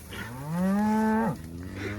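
One drawn-out cow moo from cattle in a pasture, rising then holding steady before breaking off, moderately loud against an open outdoor background with faint calls around it.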